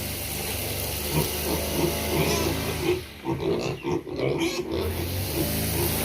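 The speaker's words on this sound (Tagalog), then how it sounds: "Tsaka yung inahing baboy" A sow on a farm grunts and snorts in a steady series of low, close calls, with chickens nearby and no talk.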